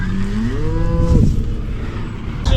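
Cattle moo loudly at close range during feeding, a long rising, wavering call with strong harmonics, with some rustling and a brief knock near the end.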